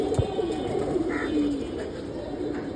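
Pigeons give soft, low throaty coos close by, a few rolling calls overlapping one another against a faint background hum.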